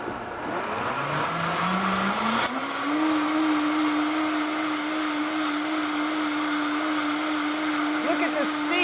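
A blender whirs loudly and steadily while blending hot pumpkin apple coconut soup, its motor pitch rising and then holding level as it runs, with faint background noise.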